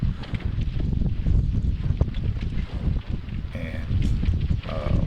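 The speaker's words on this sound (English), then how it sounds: "You'll also be able to hear it on the video. It's very windy where I live" Strong wind blowing outdoors at a windy home, roaring and buffeting a nearby microphone in a continuous gusty rush, with a faint voice briefly audible beneath it.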